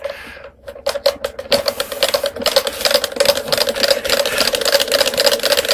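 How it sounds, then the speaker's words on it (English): A homemade magnet motor with pumping pistons spins up and runs, giving a fast, steady mechanical chatter of rapid rhythmic clicks that starts abruptly and continues loud and close throughout. "Okay, let's give it a spin."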